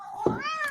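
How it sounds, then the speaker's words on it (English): A cat meows once, a brief rising-and-falling call that is close and clear, set in a home where a lesson on sentence subjects and predicates is being taught. "I apologize for the cat."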